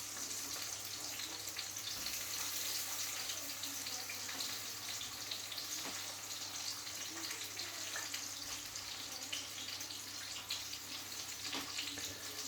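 Butter frying in a pan beside a steak, a steady hiss running the whole time without pause, moderately close and fairly quiet, with no voices.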